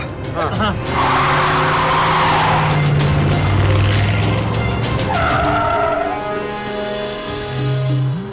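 A car skids with loud, sustained tire squeals layered over engine roar. Several squeals rise and fall in pitch, and a final short squeal comes near the end, all heavily under dramatic sound effects and talk.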